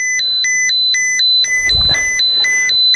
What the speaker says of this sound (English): And it's even beeping. Yeah, it's beeping.